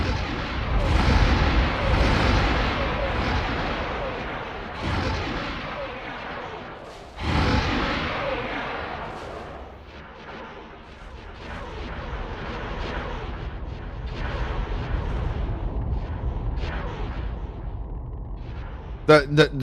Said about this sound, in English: All those chain guns just look so beautiful.